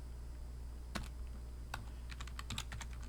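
Faint computer keyboard typing enters a database command, a few isolated key presses early on, then a quicker cluster of clicks near the end, heard alone without speech.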